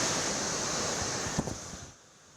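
Strong wind and rain from Typhoon Egay roar steadily by the sea in Ilocos Sur, a loud continuous rush with a brief gust-like surge before it eases slightly near the end.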